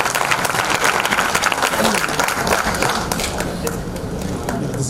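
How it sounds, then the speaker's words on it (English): A conference audience gives a big round of applause, thick continuous clapping that holds steady and then eases off slightly near the end. "A huge round of applause, everybody."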